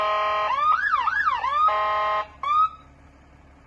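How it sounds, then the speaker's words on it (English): A loud, close fire engine siren wails in rising and falling sweeps, switches to a steady tone, cuts off, then gives a short final whoop. "The sirens work."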